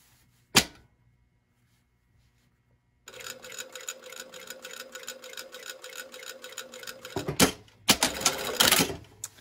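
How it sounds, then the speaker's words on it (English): A sewing machine stitches fabric in a fast, even clatter that runs about four seconds after a single sharp click and a pause, ending in louder handling knocks. "now we're going to sew down to the point here at the bottom"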